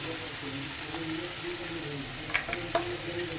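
Spices and Nashik-style black masala fry in a pan with a steady close sizzle, a couple of brief spoon scrapes and clinks breaking through near the end.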